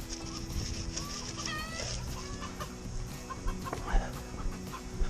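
Several chickens cluck and squawk together in a noisy, agitated jumble, with occasional sharp cries rising over the steady flock chatter.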